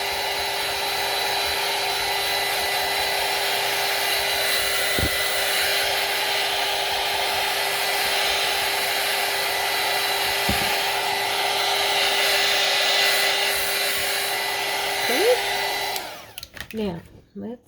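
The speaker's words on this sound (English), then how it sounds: "I'm going to hit this on the heat tool. I'm going to dry this a little bit" A heat tool blows steadily to dry acrylic ink on a gelli plate print, a loud continuous whirring roar with a high whine that holds for about sixteen seconds, then cuts off, leaving a few faint handling clicks.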